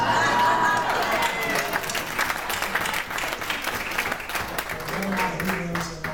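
An audience at a political debate between state senate candidates in Tampa claps, loud at first and gradually thinning, with voices and chatter audible underneath the applause.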